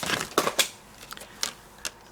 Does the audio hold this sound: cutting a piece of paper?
yes